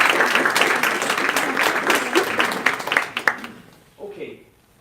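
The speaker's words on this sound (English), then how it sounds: "can we give them a round of applause, please?" An audience at a symposium gives Michael and his group a round of applause, a full burst of many hands clapping that tapers off near the end, followed by a brief voice.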